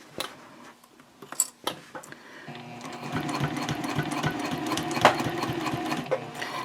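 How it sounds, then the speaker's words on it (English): A sewing machine stitches a backpack, starting with a few clicks and clunks of handling before settling into a steady, close, whirring run of rapid stitches. "This is really not hard to sew in,"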